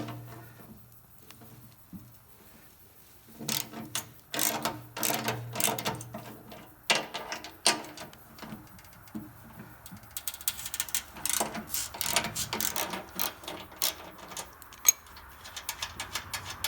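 Ratchet with a 1/2-inch socket loosening a nut on a carriage head bolt through the sheet-metal blower housing of a Toro PowerMax 828 snowblower: bursts of quick close clicking come in short runs, separated by pauses and handling noise.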